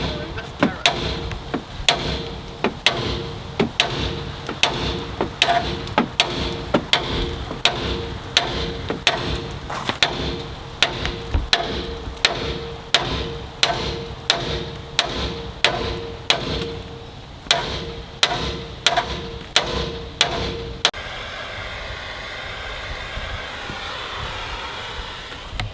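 Steady hammer blows strike a conical lower ball joint to knock it loose from its seat, dozens of sharp metallic hits in a fairly even rhythm, loud and close, ending in a few seconds of quieter hiss.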